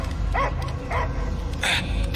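A dog barks in the video game Guardians of the Galaxy, giving a few short, separate bow-wow barks over a low rumbling game soundtrack.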